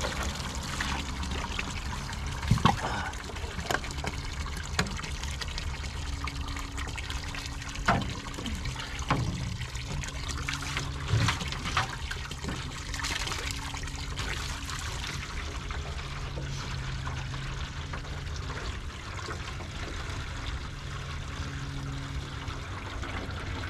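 Water pours steadily into a container at an outdoor water refill point in Canada, a continuous trickling and splashing flow with brief clunks, fairly close and unbroken throughout.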